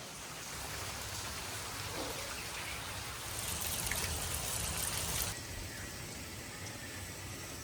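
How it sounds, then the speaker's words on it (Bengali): Heavy monsoon rain falls steadily as a continuous broadband wash of drops on surfaces, swelling somewhat louder for a stretch in the middle before settling back, with no voices present. "আজকে তো প্রচুর বৃষ্টি হচ্ছে"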